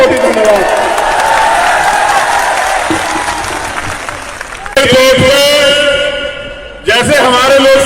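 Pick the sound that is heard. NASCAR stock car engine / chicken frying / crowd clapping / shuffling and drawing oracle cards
crowd clapping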